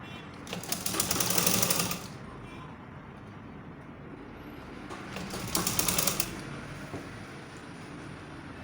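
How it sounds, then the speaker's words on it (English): A sewing machine stitching a gathered gown runs in two bursts of fast, steady mechanical chatter, each about a second and a half long, separated by a quieter stretch of background hum. "As I'm sewing, I will check the center."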